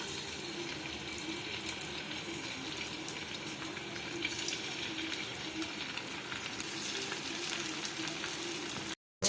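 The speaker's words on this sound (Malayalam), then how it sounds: "സൺഫ്ലവർ ഓയിൽ ഒഴിച്ച് അത് ചൂടാകുമ്പോൾ നമുക്ക് ഇത് കൊഞ്ച് അതിലേക്കിടാം" Prawns frying in hot sunflower oil for a crispy Kerala-style prawn fry, a dense, steady crackling sizzle that runs unbroken at moderate loudness before cutting off abruptly.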